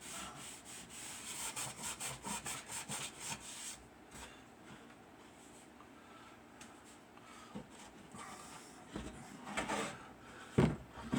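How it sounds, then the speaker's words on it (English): Hand sanding of a wooden owl nesting box: quick rhythmic rubbing strokes at first, then a quieter stretch of slower scraping and a couple of sharper knocks near the end, close and fairly soft. "I'll sand the rest of it off a little bit"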